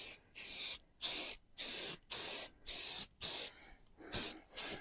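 Rust-Oleum primer sprayed from an aerosol can while refinishing a Chrysler, heard as about eight loud, close hissing bursts of roughly half a second each with brief gaps, and no talking.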